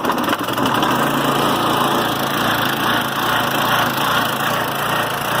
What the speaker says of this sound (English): it seems to be running alright